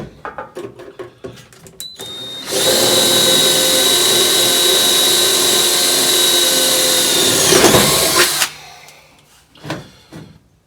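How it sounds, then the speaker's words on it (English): A power drill whines loudly for about six seconds at a steady high pitch, drilling holes in metal on a 1970 Challenger, bracketed by clicks and handling noises before and after. "I'll drill a couple of holes in this vicinity"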